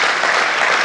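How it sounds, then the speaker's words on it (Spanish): Worshippers at a church service applaud the Lord in a short, dense burst of clapping from many hands, loud and unbroken. "Denle un aplauso al Señor."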